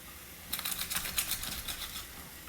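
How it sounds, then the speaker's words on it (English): Garlic cloves peeled in a garlic peeler, a quick burst of dry crackly rubbing and rustling that starts after a short pause and trails off, close by and fairly quiet. "I'm gonna peel my garlic with my garlic peeler"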